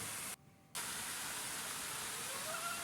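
A small waterfall near Palasdari Dam gives a steady, even rush of falling water with no voices; the flow drops out for a moment early on before resuming at full strength.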